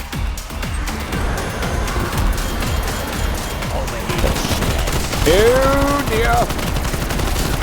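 Fake gunfire crackles from a decoy grenade in Call of Duty zombies on the Mauer der Toten map, a steady run of rapid distant shots under game noise, with a brief exclamation from a player.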